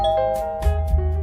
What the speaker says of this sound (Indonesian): Suara bel sudah dipencet olehnya.